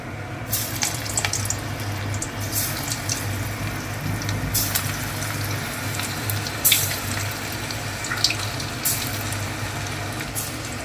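Lentil fritters (dal bora) fry in hot oil with a continuous dense sizzle and crackle, close and loud throughout, with occasional louder bursts and no talking.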